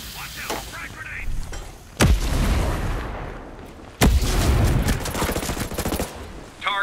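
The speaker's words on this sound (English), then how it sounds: "Hear unsuppressed enemy fire." Unsuppressed enemy gunfire in Ghost Recon Breakpoint: two loud, heavy bursts of rapid rifle fire, each sustained for about two seconds, with faint game voice lines in between.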